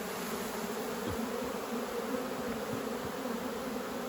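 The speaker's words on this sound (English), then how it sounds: "I want to shake some more bees in," Honey bees buzz in a steady, faint drone as they are shaken from a brood frame into a nucleus hive, with a few soft knocks underneath.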